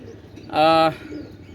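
A single drawn-out coo, sharp and fairly loud, comes from a baby pair of red-eyed pigeons at a Pakistani pigeon fair, set against faint background chatter.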